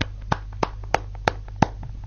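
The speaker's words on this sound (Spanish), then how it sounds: "aplauso." A few sharp hand claps ring out one at a time at uneven intervals, close and distinct over a low steady hum, sounding like brief, sparse applause on a football talk show.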